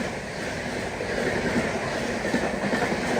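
Another train rushes past alongside the Durg to Visakhapatnam Express, a loud continuous rumble with rhythmic clickety-clack of wheels on rails, heard close and steady throughout without any talk.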